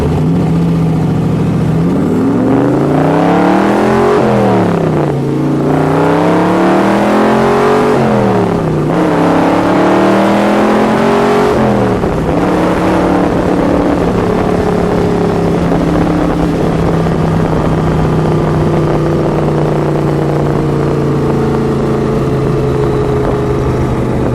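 A 1958 Scarab race car's V8 engine revs through several loud rising gear pulls on an Arizona straightaway, then settles into a steady, close, rumbling cruise.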